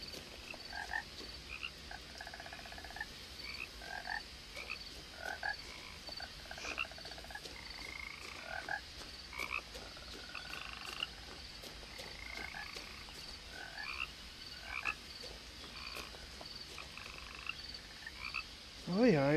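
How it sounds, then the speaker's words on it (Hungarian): Frogs croak in the video game What Remains of Edith Finch, a dense chorus of repeated short calls layered over a steady night insect hum, continuing throughout at moderate level. "Békák."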